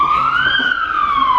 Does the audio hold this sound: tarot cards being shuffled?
no